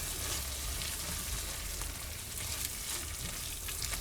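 Refried beans with green onion heating in a pan, giving a steady, dense sizzle and crackle throughout, close and even in loudness with no talking.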